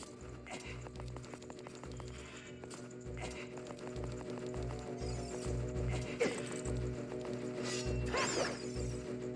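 A slow mechanical clanking and grinding with regular, plodding knocks from a slow-moving death trap in The Legend of Zelda: Ocarina of Time 3D, like heavy gears or a ratchet turning steadily, continuous and fairly close.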